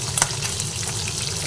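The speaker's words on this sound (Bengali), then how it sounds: "মাছগুলো একটা দিক ভাজা হয়ে গেছে" Pabda fish sizzle steadily in hot oil in a pan, a dense continuous crackle with a brief sharper spatter near the start and no talking.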